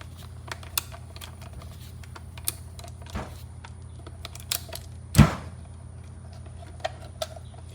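Four hex screws are backed out of the mirror clamp on a Can-Am Maverick UTV, giving sparse, faint metallic ticks and clicks scattered through a quiet setting, with a single louder clatter about two-thirds through.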